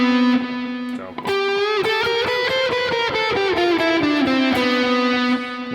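A distorted electric guitar plays a fast prog metal run down the Dorian mode, three notes per string, a loud continuous stream of quick picked notes that holds a sustained note at each end.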